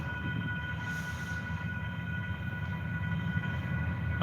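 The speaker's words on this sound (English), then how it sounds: "I'm gonna go ahead and wait till after this train passes" A train rumbles past steadily and fairly loudly outdoors in cold weather, a continuous rolling drone with a faint high tone, no voices over it.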